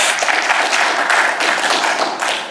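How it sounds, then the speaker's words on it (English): A meetup audience at a tech talk claps in a steady burst of applause, a dense, even patter of many hands that continues for the whole stretch before easing slightly at the end. "let's give him a round of applause for getting that hack"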